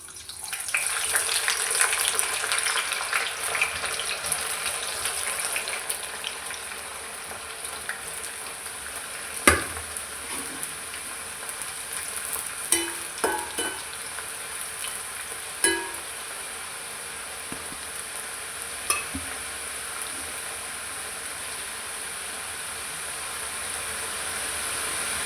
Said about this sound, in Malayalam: വെളിച്ചെണ്ണയിലാണ് ഞാൻ ചക്ക വറുക്കുന്നത്.